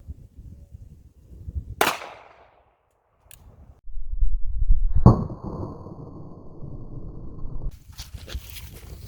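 A small-calibre carry handgun fires one sharp, loud shot that rings off quickly, with a second crack about three seconds later followed by a sustained hum and scattered shuffling.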